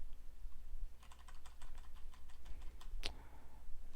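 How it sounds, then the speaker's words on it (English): Computer keyboard typing, a short burst of quiet, close keystrokes ending in one sharper key click over a low steady hum. "I don't know how to type"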